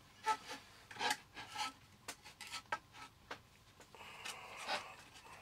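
Scraping the back of a potentiometer during repair of a Dansette Automix amplifier: a series of short, rough rasping strokes in an uneven rhythm, close and quiet, ending in a longer continuous scrape.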